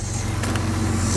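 A 2000 Jeep Cherokee XJ engine idling while running too rich, a steady low rumbling drone close by with no other sounds.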